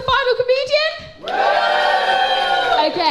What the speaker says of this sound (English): Give me an even louder cheer if you're excited for the final comedian